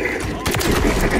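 Gunfire in the video game Call of Duty Modern Warfare 3, a quick burst of sharp shots within about a second, loud and close, while a player talks over it.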